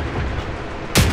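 A tank shell glances off armor in the mobile game Tank Company, a sudden loud metallic crack-boom at the very end following a steady low rumble of engine and battle ambience.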